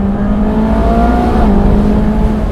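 A 2015 Ferrari 458 Speciale Aperta V8 revs loud and close from inside the car, a continuous rising engine roar with a steady droning tone and no talk.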